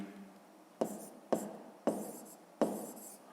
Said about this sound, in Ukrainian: Записуємо тоді, що у Олександра 49 очків.